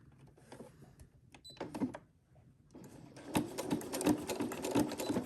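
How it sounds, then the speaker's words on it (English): A sewing machine stitches binding onto a zipper pouch, with quiet handling and a few slow stitches at first, then a steady rapid mechanical whir and clatter of continuous sewing, close and clear. "So stitch forward and reverse again."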